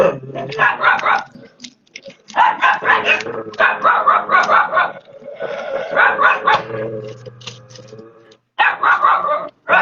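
A dog barks loudly and close by in several rapid volleys, with short pauses between the bursts.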